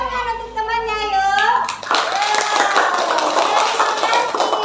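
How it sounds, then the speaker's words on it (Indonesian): A teacher's voice in an elementary classroom gives way to a burst of quick, dense clapping from a group of children that continues steadily to the end. "Boleh berikan tepuk tangan untuk temannya, ayo."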